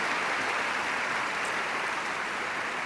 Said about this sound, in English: We also need to give a big round of applause to Bevan and her team